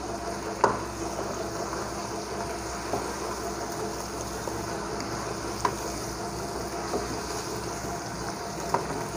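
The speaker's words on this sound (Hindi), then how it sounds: "हमने ये साथ में इसके अंदर चिकन डाल दिया, इसको फ्राई कर लेंगे।" Chicken for karahi fries in a pan with a faint, even sizzle, a few sharp clicks of utensils standing out now and then.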